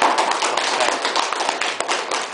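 An audience claps after a talk at a lecture event, dense, loud applause that fills the whole moment, with individual hand claps standing out near the listener.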